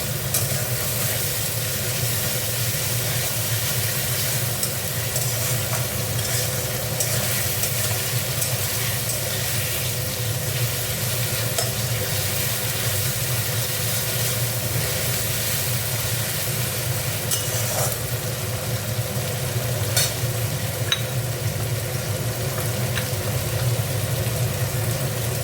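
Ginger garlic paste fries in hot oil in a pan for a koi fish curry, a dense, even sizzle that holds steady and fairly loud throughout with no talking.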